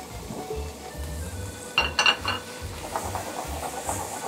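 Minced meat for Bolognese sizzles steadily in a frying pan, with a burst of metallic clinks and scraping partway through as the pan is stirred.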